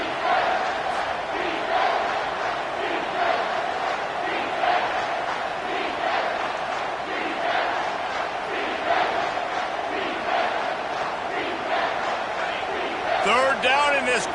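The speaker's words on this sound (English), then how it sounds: "this crowd is tearing the lid off this place" A football stadium crowd roars loudly on third down, a dense, continuous wall of cheering and shouting that holds steady throughout, with a game commentator talking over it.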